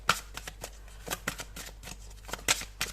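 Tarot cards being shuffled and laid out close by, with quick crisp riffling bursts and soft slaps in an uneven rhythm, with no talking.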